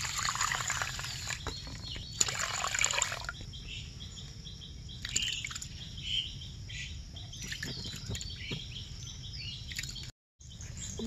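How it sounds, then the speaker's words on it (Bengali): Broken rice and red lentils are rinsed by hand in water, giving soft sloshing and trickling that is busiest early on, while birds chirp steadily in the background of an outdoor setting. "তো এখন আমি এই যে খুদটা ধুয়ে নিব"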